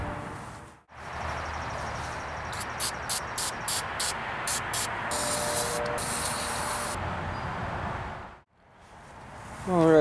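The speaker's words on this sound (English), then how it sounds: "But a good cleaning under here, a good pressure wash, and we'll see what it looks like after I do that." A pressure washer blasts the underside of a 1978 Harley golf cart: a loud, broad hissing spray close by, with a series of short rhythmic spurts partway through, cutting off abruptly near the end.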